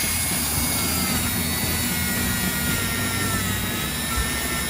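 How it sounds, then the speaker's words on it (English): A Dremel rotary tool polishes the pickup shoes of a vintage Aurora slot car, giving a steady, close, high-pitched whine with a low motor hum that runs unbroken from start to finish. "the Dremel makes quick work of it. Just shines it right up the top."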